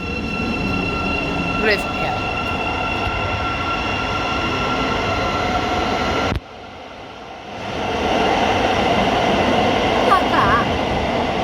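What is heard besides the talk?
Thameslink class 700 train departing St Pancras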